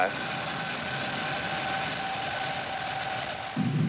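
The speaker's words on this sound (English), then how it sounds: "Ignition, engines full power, and liftoff." Rocket engines roar at liftoff of the SpaceX Crew-5 launch, a steady, dense rumble held at constant loudness throughout, heard from a distance with a faint broadcast hum.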